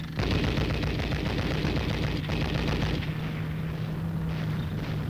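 Heavy automatic machine gun fire in a wartime battle scene, a loud continuous roar of bursts and booming reports filling the whole stretch with no let-up.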